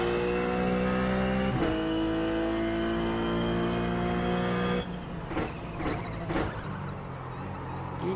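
A Ruf race car engine at Spa in the iRacing simulator, a loud sustained high-revving harmonic drone that drops abruptly into lower, uneven engine sounds and short bursts near the end, with no talk over it.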